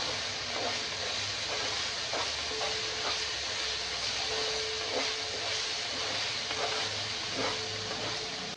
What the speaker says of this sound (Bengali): মশলাটা ভালো করে ফ্রাই করতে হবে, যতক্ষণ না মশলা থেকে তেলটা বেরোবে